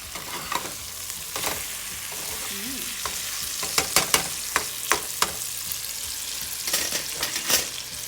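Cod fries in a pan with a constant bright sizzle, while a spatula turning the fish adds several sharp scraping clicks and taps near the middle and end.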